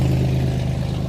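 A 2003 Ford Explorer idles with a newly installed muffler, giving a steady low rumbling hum close by with no talk.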